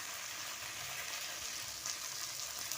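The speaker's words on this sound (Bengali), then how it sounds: "মশলাটা ভালো করে কষিয়ে নেব" Spice paste of ground ginger, dry red chili and turmeric frying in a pan for a village-style Bengali fish curry, a soft continuous sizzle heard faintly with light stirring.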